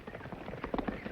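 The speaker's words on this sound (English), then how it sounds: "Me hear horses." Horses' hooves clip-clop as riders approach in an old Western radio drama, a soft, irregular patter of hoofbeats, faint and somewhat distant, with no voices over it.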